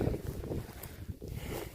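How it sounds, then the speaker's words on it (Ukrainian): Steady wind buffets the microphone on a pike-fishing trip by the water, with a low, rumbling roar that swells and eases throughout. "Вітер дує"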